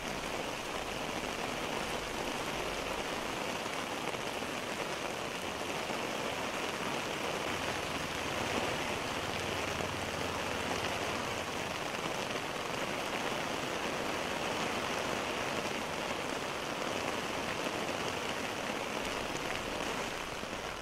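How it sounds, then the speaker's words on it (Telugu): Heavy monsoon rain falls across India as a dense, unbroken hiss. It holds steady and loud throughout, with no pauses and no voices. "ఉత్తర భారతంలో సైతం జోరుగా వర్షాలు కురుస్తున్నాయి."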